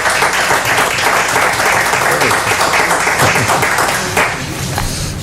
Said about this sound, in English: We've never had so much clapping.